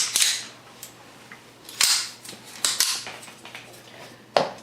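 A Sig Sauer P226 Legion pistol in .357 SIG is handled to show it is unloaded, giving a few sharp metallic clicks and clacks at irregular intervals against a quiet background.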